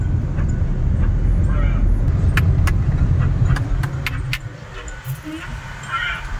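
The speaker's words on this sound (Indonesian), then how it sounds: "Ini macet karena lampu merah ya." Idling traffic stuck at a red light, with a steady low rumble of car engines close by and occasional brief sharp rattles and clicks over the top, the drone easing slightly toward the end.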